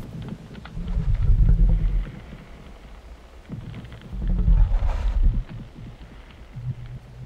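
Idle sound of an icy creature in The Wings of Dawn game: low, breathy rumbling swells that rise and fall twice, with a faint airy hiss between them.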